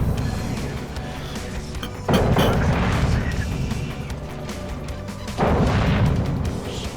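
The destroyer Daring fires its naval guns in World of Warships, two loud booming salvos a few seconds apart over steady engine and sea rumble.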